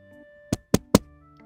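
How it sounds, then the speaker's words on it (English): Three sharp knocks on a door for a delivery in a children's storytime cartoon, evenly spaced and close, with quiet between them and a faint tap after. "Knock, knock, knock."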